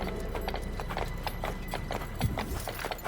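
Hooves clop in a steady, quick rhythm as a horse moves in the video game Fable: The Journey, close and clear over a low ambient bed.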